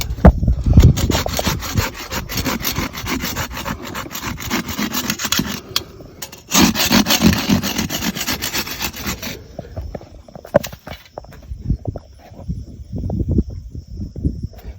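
A farrier's rasp works a horse's hoof during barefoot trimming, a close, loud scraping of rough repeated strokes in two long bursts, then a few lighter sporadic passes.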